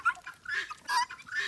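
Hens and ducks out in a backyard yard, with several bursts of clucking and bird calls coming in short separate phrases at moderate distance, nobody talking.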